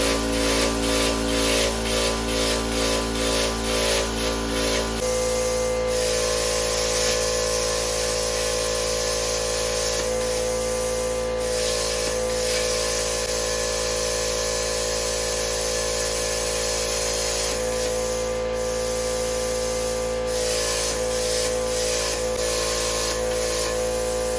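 A plasma cutter cutting metal gives a loud, steady hissing roar with a harsh buzzing edge, running continuously, with brief pulsing at the start and a few momentary dips.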